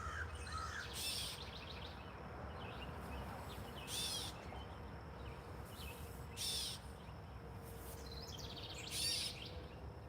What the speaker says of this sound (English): Hear all kind of birds right now, but that one's just yelling.